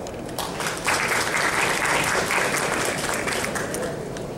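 Audience applauding a speaker at a Spanish-language conference on climate adaptation financing, a steady wash of many hands clapping that swells after a brief start and holds through to the end, moderately loud with no voices over it.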